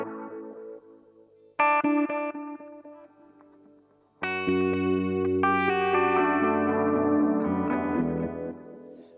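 Guitar played through a Fractal FX8 multi delay set to quad tap: clean sustained chords and single notes ringing out with layered, shimmering repeats and chorus-like wash, building denser and louder in the second half, no voices.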